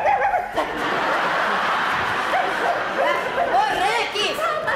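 Dog barking in a comedy sketch, quick yips and barks mixed with laughter and overlapping voices, fairly close and lively over a few seconds.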